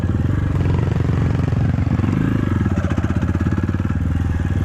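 A KAYO TSD 110 enduro dirt bike runs close by on a sandy training ride, its small single-cylinder engine chugging in a fast, loud pulsing beat as the throttle is opened.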